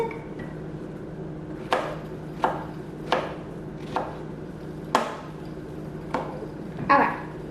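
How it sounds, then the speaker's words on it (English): Knife cutting strawberries diagonally on a board, seven or eight crisp, evenly spaced chopping taps at close range with quiet pauses in between. "to grab some strawberries and cut them diagonally"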